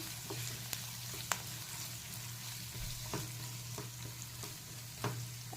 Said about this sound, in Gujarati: હવે આને વચ્ચે વચ્ચે આપણે હલાવતા રહેવાનું